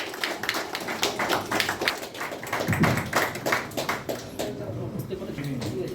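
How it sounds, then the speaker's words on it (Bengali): A crowd claps at a phone launch inside a small telecom shop, with steady, fairly close applause that keeps going under a speaker's voice. "জোরে হাততালি হয়ে যাক সকলে মিলে একসাথে।"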